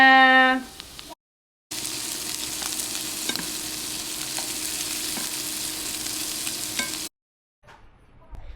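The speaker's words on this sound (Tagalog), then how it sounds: "Gumagawa na po siya ng mushroom gravy." Mushroom gravy sizzles and bubbles steadily in a pan, a loud, continuous frying hiss with occasional stirring clicks, close up and without talk, cut briefly at the start and end.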